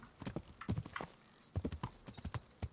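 Horse hooves galloping in Kingdom Come: Deliverance, a rapid uneven drumming of clip-clop beats close up and fairly quiet, with a faint whinny.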